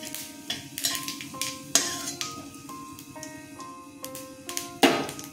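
Cumin seeds, with bay leaf and dried red chillies, sizzle in hot oil as a tempering for a coconut dish, with a steady soft crackle, occasional stirring scrapes and utensil clinks under background music.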